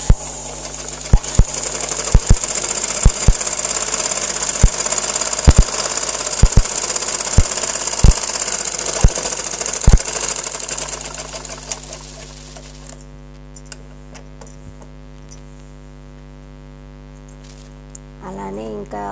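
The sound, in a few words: sewing machine stitching the side seams of a long frock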